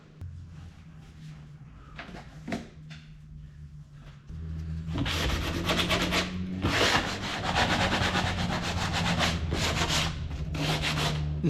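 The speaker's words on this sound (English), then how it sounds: "I just give that a hit with some sandpaper and see how it fits" Wood being rubbed with sandpaper to take off sharp burrs on a boat build, starting with light scattered strokes, then turning into steady, loud, rhythmic back-and-forth sanding.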